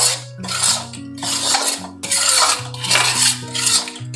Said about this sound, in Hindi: अच्छे से भून लूंगी इसको मैं